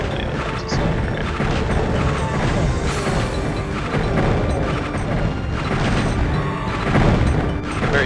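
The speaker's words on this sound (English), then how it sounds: "A very satisfying exploding sound when they die." Enemies in the Heretic game blow apart as they die, giving dense, loud crashing booms and thwacks that pile up over a few seconds among other game noise.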